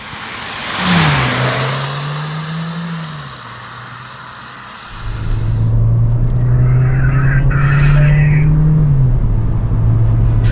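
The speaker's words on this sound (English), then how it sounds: "This is the Skoda Slavia Monte Carlo. It sounds pretty fast, right?" A Skoda Slavia Monte Carlo 1.5 TSI sedan's engine revs hard up close, climbing and holding, easing off, then a second longer rev builds and sustains loudly.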